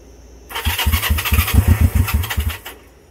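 A Honda CB350 motorcycle, unstarted for 13 years, cranks and fires with choke on, a rapid sputtering burst of uneven combustion pulses lasting about two seconds before dying away, close and loud with no talk.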